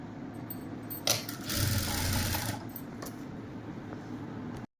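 A sewing machine runs a loose basting stitch on a kurti, giving a steady close mechanical whir with a louder burst near the middle before it stops abruptly.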